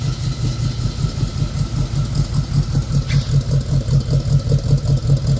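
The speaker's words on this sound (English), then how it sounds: "here is the 1940 Chevy sedan. We have it here running for you." A 1940 Chevy sedan hot rod idles in the open with a steady, loping rhythm, loud and close, no voices.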